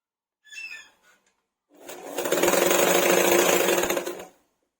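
A sewing machine runs steadily for over two seconds as it stitches the sides of a cloth cover for a bolster pillow made from old fabric, loud and close, after a few brief faint sounds.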